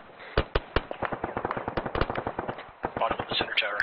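Rapid bursts of gunfire during a military training exercise, loud and close, cracking in quick irregular volleys with brief pauses, sharp and dense throughout.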